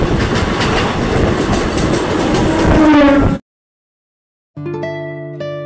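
The 08655 Adra–Asansol MEMU special rushes past with a loud, close roar and rattling wheels, then cuts off abruptly before a clear horn-like tone sounds.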